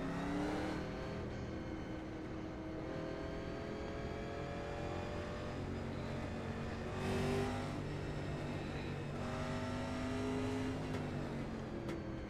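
Race car engines in the iRacing video game at Rockingham Speedway, in a NASCAR fixed-setup series, drone and rise and fall in pitch as several cars accelerate and pass, with a steady mechanical whine underneath.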